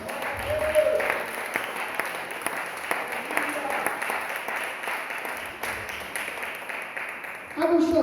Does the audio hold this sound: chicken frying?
no